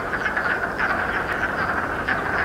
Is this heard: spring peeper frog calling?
yes